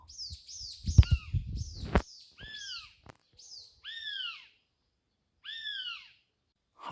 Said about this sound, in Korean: 뭐야, 새가 이렇게 큰가?